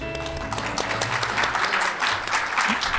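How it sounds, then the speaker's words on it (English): An audience at an academic symposium opening breaks into a full round of applause to welcome a speaker, sustained, even clapping from many hands filling the hall throughout. "Please welcome him with a big round of applause."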